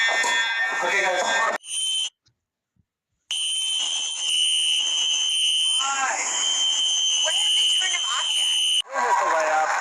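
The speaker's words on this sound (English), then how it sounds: "Why is the fire alarm going off?" Fire alarm blaring with a harsh buzzing tone, cut off by a brief silence and then resuming loudly, with people talking over it.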